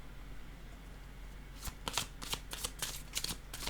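A card drawn from a deck: a short flurry of crisp paper flicks and riffles, close and fairly quiet, after a moment of near silence.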